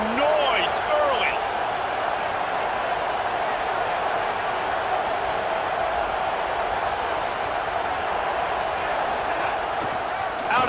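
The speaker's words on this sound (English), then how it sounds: "This crowd bringing the energy and noise early." Steady stadium crowd roar in a College Football 27 video game matchup between SMU and FSU, a loud continuous wash of noise with faint sporadic thuds.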